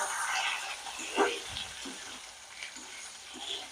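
Dosa filling fries gently in a pan, a soft continuous sizzle with occasional small pops and stirring sounds, while a person talks over it at moderate level.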